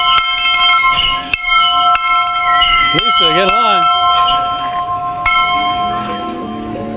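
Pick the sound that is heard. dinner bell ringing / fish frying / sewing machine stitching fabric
dinner bell ringing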